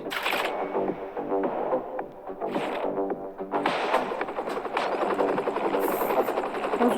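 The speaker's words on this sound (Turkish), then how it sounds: "Helikopter de. Hey helikopter sizi korumayacak adamım." Helicopter rotor thumping steadily through a sniper shooting video game, loud and continuous with game effects layered over it, no speech.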